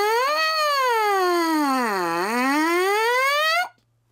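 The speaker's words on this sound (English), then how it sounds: "When you make that and you buzz through it into the mouthpiece, it sounds something like this." A trumpet mouthpiece buzzed by the lips alone, a bright, loud, reedy tone that wavers, dips low in pitch and climbs back up before cutting off sharply near the end.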